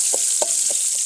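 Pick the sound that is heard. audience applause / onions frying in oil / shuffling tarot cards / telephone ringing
onions frying in oil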